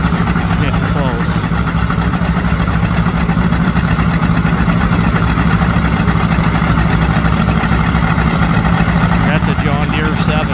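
A John Deere 720 antique tractor at a tractor pull: a loud, continuous low engine rumble that holds steady throughout, close and dominant, with an announcer talking over it.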